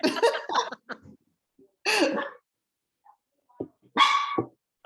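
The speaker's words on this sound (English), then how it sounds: "Let's tell that puppy to zip it." A puppy barks in sharp bursts, several quick loud yaps followed by pauses and two more barks, close by and alone.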